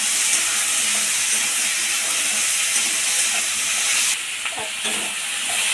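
Spices with ground cumin, ground coriander and slit green chilies sautéing in a pan for a cucumber and prawn curry, giving a steady loud sizzle and hiss throughout with no talking.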